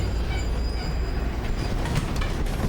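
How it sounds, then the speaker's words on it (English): A subway train runs with a dense, continuous rumble of wheels on track and faint squeals, filling the space loudly with no talk. "Oh, look at the subway. It's so run down."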